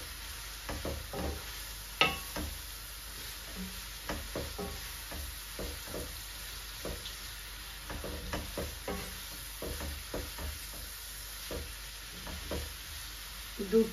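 Okra frying in a pan of hot oil, with a steady sizzle broken by repeated scraping, clattering stirs at an irregular rhythm, close and moderately loud, no talking.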